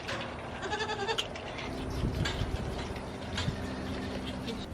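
Miniature goats bleat on a farm, several wavering calls overlapping near the start and again midway, fairly close over a low steady background hum.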